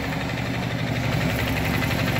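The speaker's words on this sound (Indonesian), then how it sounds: "dipadatkan dengan mesin baby roller yang sangat handal, berpengalaman." Baby roller compactor engine idling and running steadily on freshly laid hotmix asphalt, a continuous mid-pitched mechanical drone with slight vibration, close and alone throughout.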